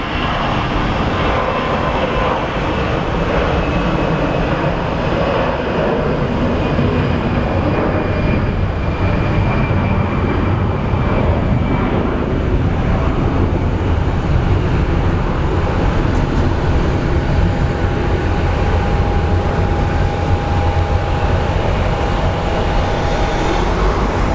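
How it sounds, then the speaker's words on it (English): Mesa Airlines airliner and a small business jet taxiing together at Phoenix Sky Harbor International Airport, a steady loud jet engine rumble and whine holding evenly throughout without speech. "we have Mesa Airlines and our business jet are taxiing at the same time"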